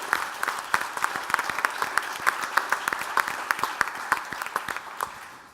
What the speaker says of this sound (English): Please, a round of applause for them that put this thing together.